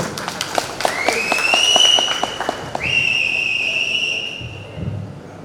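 A crowd at an Andaman Tamil association gathering with actor-director Parthiban claps in sharp bursts while two long, shrill whistles ring out loud and close, fading toward the end.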